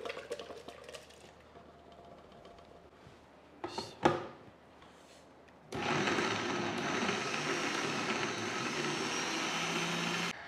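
Juicer blender jug grinding boiled ingredients for Lahori breakfast chana into paste, starting after some quiet handling and clatter of the jug, then a loud steady motor whir running continuously to the end, close up with no voices.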